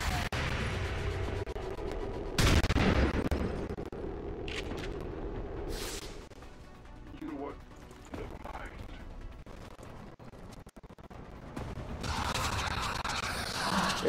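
Shotgun overwatch gunfire in XCOM 2 Long War of the Chosen sounds as a sharp loud blast near the start, then dense game effects, mechanical clatter and lesser bursts over a steady background, with speech throughout.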